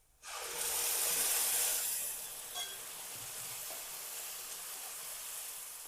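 Tomato puree hitting a pan of roasted garlic, a loud burst of hissing sizzle that settles into a steady, softer frying crackle.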